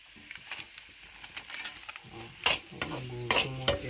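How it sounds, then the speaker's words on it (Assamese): Grated coconut and jaggery are stir-fried in a pan, giving a steady soft sizzle under repeated scraping strokes and light metallic taps of the spoon against the pan, close and moderately loud. "নাৰিকল গুড়খিনি ভাঙি নোযোৱালৈকে মই ভাজি"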